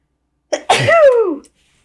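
A single loud sneeze bursts out close by after a brief sharp intake of breath, followed by silence.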